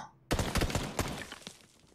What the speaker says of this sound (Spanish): Escucho algunos disparos.